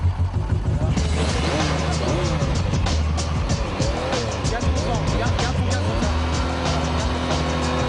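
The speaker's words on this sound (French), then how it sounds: "Ça y est, la moto a redémarré" A restarted motorcycle engine runs loudly and steadily nearby, a continuous dense roar with revving swells throughout.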